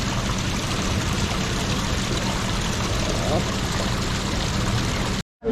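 Water spills down a small waterfall in an otter enclosure, a steady rushing pour heard close and continuous, cutting off abruptly near the end, with a voice talking faintly over it.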